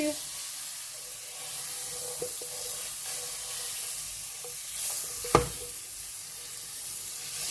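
Butter sizzling on a hot plate turned down to setting four, a steady soft hiss of frying with a few faint clicks and one sharp knock.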